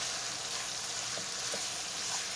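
Potato salad dressing thickening into a syrup in a hot pan for German potato salad with bacon, a steady soft sizzle and bubble throughout with a few faint stirring scrapes, no voices.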